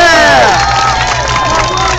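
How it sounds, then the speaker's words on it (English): An outdoor crowd in Central Park cheers and claps for street performers, loud whoops and shouts rising over steady applause in a short burst. "Give them a round of applause."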